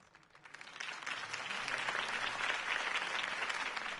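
A crowd in the video game Telltale's Batman applauds after a campaign speech, the clapping swelling from faint to a steady, full roar of many hands.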